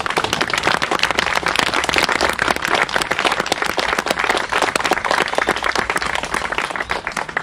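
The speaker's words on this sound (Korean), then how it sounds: "세월호 유가족들을 위해서 또 박수 보내주세요." A crowd at an outdoor rally for the families of Sewol ferry victims claps loudly and continuously, dense overlapping hand claps close by with no pause.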